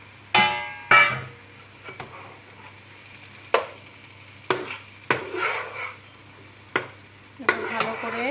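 A spoon stirs soaked rice in a pot for chicken biryani, close and loud, with about ten sharp scraping knocks against the metal over a low sizzle and no talking.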